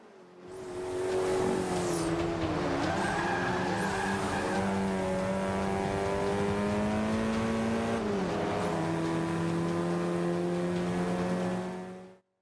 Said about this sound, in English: the turbo sounds and the car sounds are awesome in this game